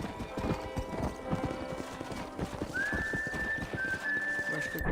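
Horse hooves clip-clop in a steady rhythm in the Red Dead Redemption video game, with a long whistle-like tone joining partway through.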